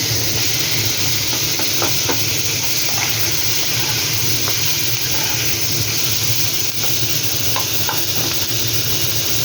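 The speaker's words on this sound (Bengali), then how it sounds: "পেঁয়াজ আলু একসাথে ভেজে নেবো।" Sliced onion and potato frying together in a pan of hot oil, a constant loud sizzle and hiss with occasional stirring scrapes, close and steady throughout.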